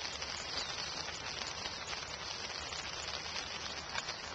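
Steady rain patters down in a deer park, a dense, even hiss of drops on surfaces lasting throughout without a break.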